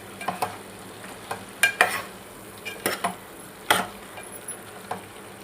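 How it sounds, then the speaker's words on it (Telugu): A spoon scrapes and knocks against a pan as chicken curry is mixed with chicken masala. The scrapes come in irregular clusters over a faint steady sizzle, close up, with no talking. "ఇప్పుడు మొత్తం అంతా ఒకసారి బాగా మిక్స్ అయ్యేటట్టు కలుపుకుందాం"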